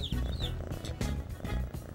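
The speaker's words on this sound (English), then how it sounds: "Listen, she's purring." A cat purring steadily up close, a low rumbling vibration pulsing in a slow rhythm with each breath, with faint high chirps at the start.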